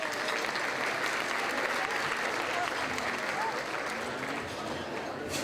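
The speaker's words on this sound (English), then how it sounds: "So please give them a round of applause." Gala audience giving sustained applause, a dense, even roar of many hands clapping that holds steady from start to finish.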